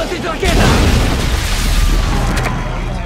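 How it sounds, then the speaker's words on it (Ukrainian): A loud, deep explosion bursts in and keeps rumbling and roaring, the heavy blast filling the scene before slowly easing. "Тут стався вибух."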